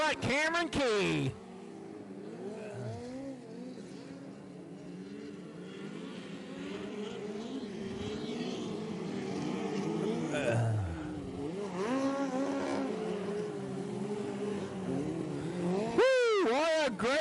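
Midget race cars roar around a dirt oval in a Central States midget series race, engines rising and falling as the pack laps, with a commentator talking over the steady drone and a car passing close near the end.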